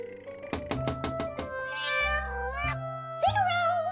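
A cat meows several times, drawn-out and fairly close, after a quick run of five knocks at the start.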